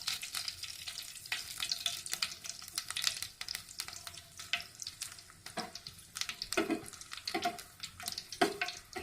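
Dried red chili and nigella seeds frying in about two to three tablespoons of hot mustard oil, a quiet uneven crackle with scattered sharp spits and small clinks, no talk.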